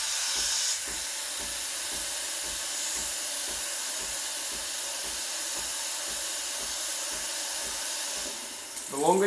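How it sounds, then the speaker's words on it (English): A Breville Barista Express BES870 steam wand froths milk, its wand held at an angle near the surface, giving a loud, continuous hiss with a faint rhythmic chugging under it that breaks off sharply near the end. "The technique I'm going to use to steam is I'm going to insert the wand sort of at an angle"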